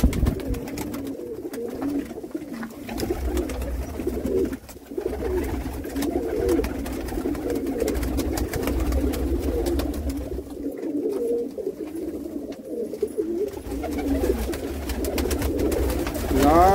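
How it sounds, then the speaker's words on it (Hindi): Grey pigeons coo continuously in low, throaty murmurs, several birds overlapping in a steady rolling chorus nearby. "सभी के सभी बड़े कबूतर"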